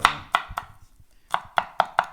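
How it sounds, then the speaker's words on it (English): Garlic cloves chopped finely with a knife on a board, sharp close knocks in a quick irregular rhythm, a brief pause midway, then a faster run of chops with no talking. "Going to chop up some garlic, and I like to chop it fine"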